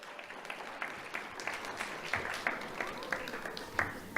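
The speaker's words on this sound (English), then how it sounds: "let's applause again for Aaliyah Rivera" An audience at a school awards ceremony claps for a shy kindergartner, giving steady, moderately quiet applause from a modest crowd that continues throughout.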